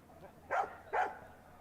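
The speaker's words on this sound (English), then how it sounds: "Looks like the only one kicking off's the dog at the minute." Dog barking somewhere near a UK hotel, two sharp barks about half a second apart, moderately loud over quiet background.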